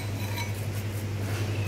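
A utensil scrapes and clinks softly against a bowl while stirring batter for homemade fried chicken, continuous and close, over a low steady hum.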